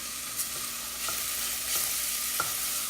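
Oil sizzling in a pan while lechon sauce is being made, a steady close hiss with a few brief stirring clicks spaced through it, no voices.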